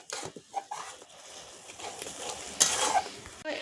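Papaya mixture stirred in a pan over low heat to cook off water, soft irregular scraping and light patter with a gentle sizzle, close and fairly quiet.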